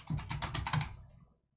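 Rapid clatter of keystrokes on a computer keyboard while entering matching form values, a dense run of close clicks for about a second before stopping into silence.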